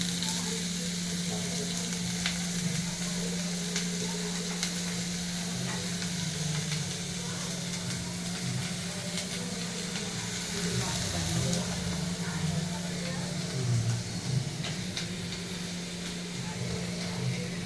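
Chopped onion and garlic sizzle steadily in butter in a pan, a continuous close frying hiss with occasional stirring scrapes and no talk.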